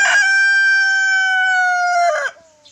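A native rooster crows one long, loud, close call that trails off into a short cluck at the end.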